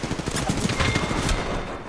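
Rapid automatic gunfire in the battle royale game Apex, a fast stream of sharp shots crackling close and loud for under two seconds.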